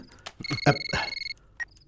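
A phone in a Hindi-dubbed South Indian action film rings with a short electronic warble of steady tones, partly under a voice, with a faint beep afterward.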